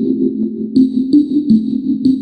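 A convolution reverb treated with distortion and a flanger, heard as a steady, washy processed tone with a sweeping, comb-like shimmer and a few soft rhythmic hits, alone with no talk.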